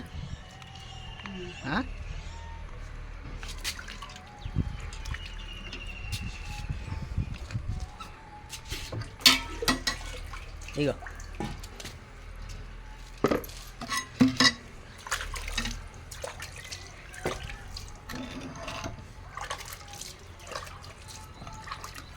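Leafy greens (nalla kura) being washed by hand in water for a village-style dish: splashing and dripping, with clinks of pots and utensils. Voices talk in the background.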